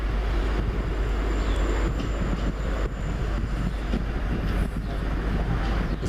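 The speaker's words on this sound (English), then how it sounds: "It's another East Midlands Trains 158." An East Midlands Trains class 158 diesel unit runs toward Peterborough, a heavy steady rumble with rail noise and faint clicks, heard from on board and loud throughout.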